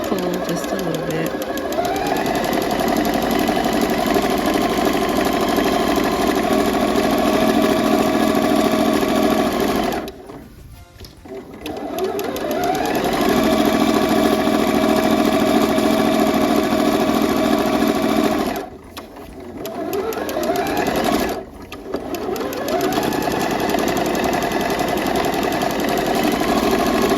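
Sewing machine stitching a pajama seam, a steady loud motor whir running continuously with two brief pauses where it slows and stops before starting again.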